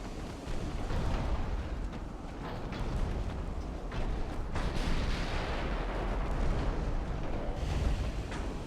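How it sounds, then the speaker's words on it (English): Naval guns in a battleship video game boom continuously against an enemy ship, a dense roar of overlapping blasts and rumble with no talk. "We're going to keep shooting it until it sinks."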